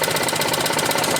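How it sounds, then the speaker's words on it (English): A Honda HRX537 hydrostatic lawnmower engine runs steadily up close, a loud continuous mechanical drone with a rapid, even knocking pulse and no voices. "turn this to choke, okay, and start it"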